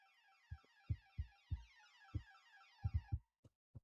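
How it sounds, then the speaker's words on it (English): A strange alarm tone sounds in a train simulator game featuring the Flying Scotsman and Mallard locomotives, a steady warbling electronic pattern lasting about three seconds over a series of low thumping knocks that continue after it stops. "The weird alarm noise"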